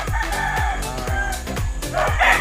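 Gamefowl roosters crow loudly nearby, with clucking chickens around them in a busy backyard farmyard.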